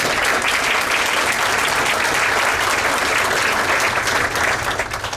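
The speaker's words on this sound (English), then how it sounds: "Let's give our mother a round of applause." An audience at a school district board meeting applauds: dense, loud, continuous clapping from a room full of people that holds steady, then begins to taper at the very end.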